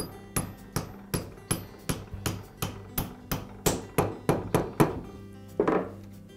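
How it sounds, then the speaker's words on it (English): Metal socket tapping a ball bearing onto the armature shaft of a Makita sander/polisher, about sixteen sharp, close hammer-like metallic taps in a fairly steady rhythm with a short pause before the last blow. "I'll use the socket to tap the bearing in place."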